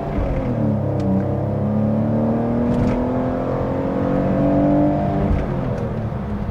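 A BMW E46 330ci with an automatic gearbox pulls away from a standstill, its engine note climbing steadily through smooth, gentle shifts, heard from inside the car, steady and moderately loud with no talk.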